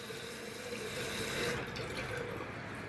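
Water keeps running in a toilet tank because of a faulty flush valve on a fairly new fixture, a steady close rushing and trickling that carries on without letup.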